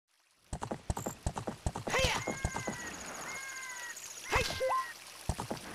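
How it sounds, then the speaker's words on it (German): A horse in the video game Zelda Ocarina of Time galloping with rapid rhythmic hoofbeats, breaking into two loud whinnies about two seconds apart, with faint water splashing. "Komm, Pferd, tu nicht blöd."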